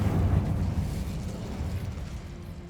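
A fiery spell bursts in Hogwarts Legacy, a deep rumbling whoosh of flame that flares loudly at the start and then roars steadily, slowly fading.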